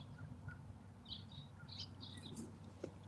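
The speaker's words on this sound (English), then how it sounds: "Well, that's an osprey" Short bright bird calls, an osprey near water at a lake or reservoir around Oroville, chirp in brief bursts over a steady low rumble of wind and water, fairly faint and a little distant.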